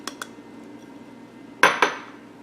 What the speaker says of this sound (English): And we'll mix it all up together.